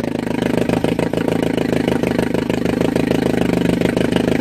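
Johnson TD20 5hp outboard motor running steadily at close range, a loud rapid putter of firing pulses with an even idling rhythm and no speech over it.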